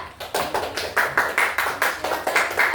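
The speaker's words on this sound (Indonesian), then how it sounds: "kita kasih aplaus dulu untuk kelompok 3" A classroom of primary school pupils applauds group 3, with a steady run of rhythmic, fairly loud claps over nearly three seconds.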